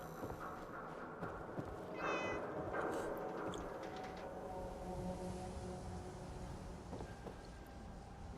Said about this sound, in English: Where was the cat?